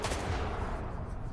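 Gunfire in S.T.A.L.K.E.R. 2 on PS5, with enemies shooting toward the player: a short, dense burst of shots at the start that blends into a steady, muffled rumble, moderately loud and close.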